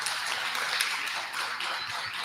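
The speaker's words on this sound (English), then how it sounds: "We maybe have a round of applause for our presentation." Audience applause after a presentation at a business economics conference: dense, even clapping from a room full of people, sustained and fairly close throughout.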